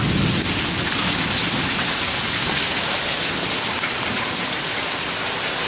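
Steady heavy rain pours down outdoors after a hot sunny spell, a dense, even hiss of drops hitting surfaces that holds at a constant loud level throughout, with no voices.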